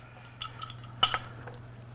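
A metal apple corer pulled from a squash, giving a brief faint scrape followed by a small sharp clink near the midpoint, heard alone in a quiet kitchen.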